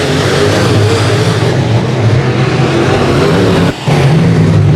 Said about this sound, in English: Deming and Good Jr. duking it out, racing through turns 3 and 4.